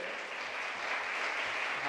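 A church congregation clapping together during a Sunday service, a brief burst of steady, moderately distant applause from many hands with a voice faintly audible beneath it.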